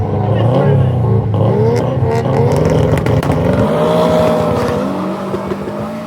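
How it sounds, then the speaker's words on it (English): A Subaru Forester drag racing down an airport strip in Dominica, its engine loud and close, revving with rising and shifting tones under an announcer's commentary. "Jared and the Subaru Forester coming up again."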